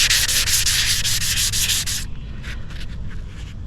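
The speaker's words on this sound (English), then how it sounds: "Let's see how she's sanding." Sandpaper rubs back and forth over wrinkled spray paint on a car panel in a test spot, a steady loud rasping stroke for about two seconds, then stopping to a few faint light scuffs.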